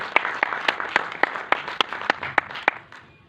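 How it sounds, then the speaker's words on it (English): Audience at a Hindi trailer launch for Underworld Ka Kabza claps in a steady, loose run of separate hand claps that fades out near the end, with little talk over it. "Ladies and gentlemen, big round of applause."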